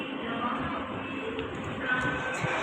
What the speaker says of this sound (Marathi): मित्रांनो. मेट्रोमध्ये बसलेलो आहे आता.